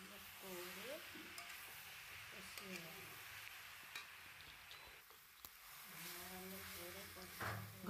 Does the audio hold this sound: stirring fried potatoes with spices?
yes